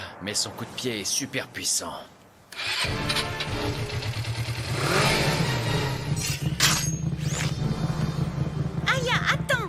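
An anime motorcycle engine starts and revs, building into a sustained, rising roar under voices talking throughout.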